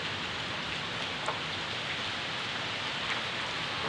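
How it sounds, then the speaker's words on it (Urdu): Heavy stormy rain with wind pours down steadily in a village, a dense, constant hiss of drops on surfaces with no pauses or voices. "بالکل طوفانی بارش نال ہوا چل رہی طوفان دی طرح"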